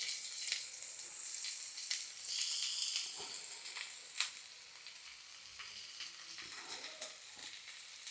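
Onion sizzling in hot oil in a home kitchen pan, a continuous crackling hiss with scattered sharp pops and occasional stirring, fairly close and without talk.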